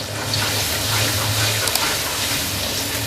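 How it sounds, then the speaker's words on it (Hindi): Two tablespoons of chopped garlic frying in half a cup of oil in a kadai, a loud, steady broad sizzle that runs unbroken throughout with no talking. "इसको चंद सेकंड भून लेंगे लहसुन को"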